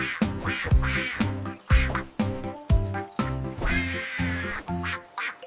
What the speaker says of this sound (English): Mother Duck said, "Quack, quack."